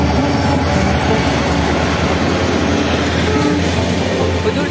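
The Hujur Sahib Nanded–Sri Ganganagar superfast express, hauled by an EMD locomotive, rushes past as a loud, constant roar of wheels and rumbling carriages with a faint high squeal above, close and unbroken.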